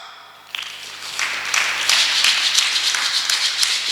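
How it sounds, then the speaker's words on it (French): A church congregation breaks into applause after a short lull, dense clapping that swells and holds loud to the end. "On acclame."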